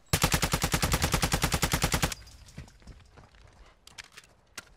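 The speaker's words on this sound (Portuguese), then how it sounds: "Estão atirando em mim aqui" Automatic gunfire in Warzone 2.0 DMZ: a fast, evenly spaced burst of about twenty loud close shots lasting two seconds, followed by quieter scattered distant shots and clicks.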